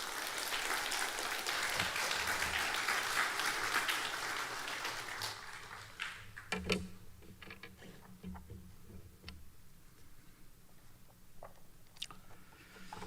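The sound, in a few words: applause in a church service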